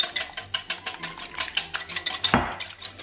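Eggs whisked briskly in a bowl for French toast, a steady run of rapid metallic clicks and scrapes close by, with one sharper clink near the end and no voices.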